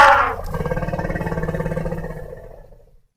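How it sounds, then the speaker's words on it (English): An elephant gives a sharp, high trumpet that turns straight into a long, pulsing, rumbling roar, which slowly fades away over about three seconds. "E for elephant."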